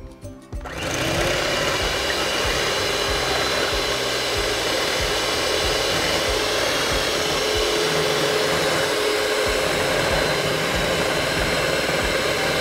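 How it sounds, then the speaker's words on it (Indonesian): Electric hand mixer whisking a small batch of whipped cream, a steady loud whirring motor hum running continuously from start to finish with no talk. "Ngocoknya pakai hand mixer aja karena kan cuma dikit dan cepat juga prosesnya."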